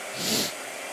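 A blow dryer drying a watercolor painting on Arches watercolor paper, a steady airy whoosh that swells for about half a second and then settles to a softer hiss, heard close with no talking.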